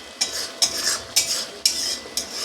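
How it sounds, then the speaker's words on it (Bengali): A spoon stirs cardamom powder into a pot of cooking pui greens. About five sharp, close scraping strokes come at a steady, quick rhythm over a soft sizzle, with no talking. "এটাও ভালো করে নাড়াচাড়া করে মিশিয়ে নেব"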